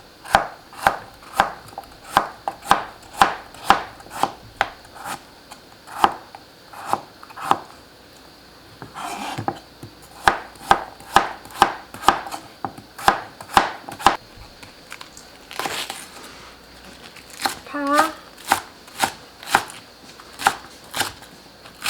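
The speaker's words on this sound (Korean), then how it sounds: "무 썰어주세요. 나박나박하게." A knife slicing Korean radish into thin flat squares on a cutting board for pollack stew: steady, close, crisp chops in quick rhythm with a few brief pauses, and no talking.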